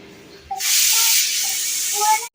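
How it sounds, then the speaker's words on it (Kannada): An omelette with onion and coriander sizzles loudly in a pan, a steady broad hiss that bursts in suddenly and holds for about two seconds before cutting off, with faint brief tones above it. "ಇಲ್ಲಿ ಆಮ್ಲೆಟ್ ಮಾಡ್ತಾ ಇದ್ದೀನಿ ಈರುಳ್ಳಿ ಕೊತ್ತಂಬರಿ ಮೊಟ್ಟೆ ಹಾಕಿದ್ದೀನಿ"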